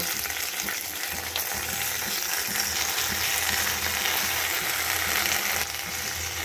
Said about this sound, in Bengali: সেই কড়াইটার মধ্যেই আমি লাউ পাতাগুলো একটা একটা করে বিছিয়ে দেব।